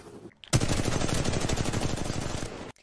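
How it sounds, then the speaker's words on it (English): Rapid sustained gunfire in a Team Fortress 2 fan film firefight, a loud dense burst of machine-gun-like shots lasting about two seconds after a brief quiet lead-in, then cutting off abruptly. "Stop shooting!"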